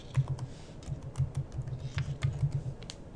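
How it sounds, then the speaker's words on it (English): Steady close typing on a computer keyboard while entering a name into office software, a quick irregular patter of light key clicks with no voices. "type an objective name."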